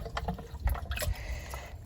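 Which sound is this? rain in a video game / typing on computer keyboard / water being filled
water being filled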